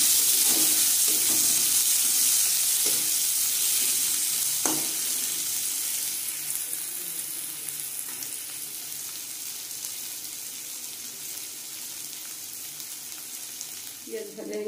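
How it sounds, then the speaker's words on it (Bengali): Chopped onions fry in a pan of hot oil tempered with chillies, bay leaf, whole cumin and garam masala for a fish-head moong dal, giving a steady hissing sizzle that slowly softens, with occasional stirring clicks. "পেঁয়াজটা একটু লাল করে ভেজে নেব।"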